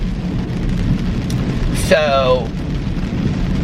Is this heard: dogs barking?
no